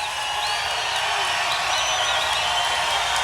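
Crowd at a Donald Trump rally in Golden, Colorado, cheering, whooping and applauding in a loud, sustained wash, with whistles rising above the steady roar.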